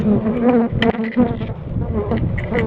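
A dense, continuous buzzing of many honeybees close by at an apiary hive, fanning their wings, a low droning hum with flickering wingbeats and no voices.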